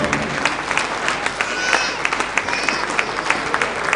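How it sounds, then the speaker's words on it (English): At an engineering institute's investiture ceremony, a standing crowd gives a loud, sustained ovation, the clapping dense and continuous with a few sharper claps and voices mixed in. "Shall we stand to our feet as we give that clapping ovation to me one more time?"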